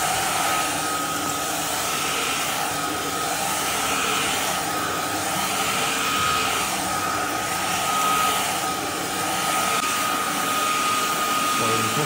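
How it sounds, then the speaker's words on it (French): A Proscenic P11 mopping stick vacuum cleaner runs continuously on an indoor floor, a loud, steady whirring motor whine with a thin high tone and no break. "Donc là j'ai ressorti quelques petites saletés que je vais aspirer"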